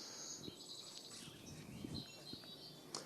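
Birds chirping and singing outdoors beside garden hedgerows on a dry-farmed market garden, a steady bright twittering bed with a few short louder calls, faint and continuous throughout.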